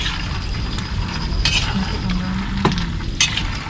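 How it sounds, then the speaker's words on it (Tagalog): Garlic frying in a pan while peanuts are cooked at home, a steady close sizzle with occasional stirring clinks and scrapes, faint voices in the background. "garlic na prito"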